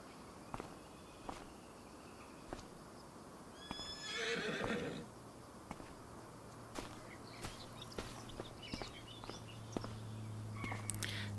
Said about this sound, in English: Horse grazing away.